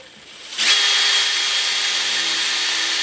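A power drill with a lubricated bit bores into a light bracket held in a vise during a ZJ Grand Cherokee snow plow setup, starting after a quiet moment and then holding a loud, steady whine.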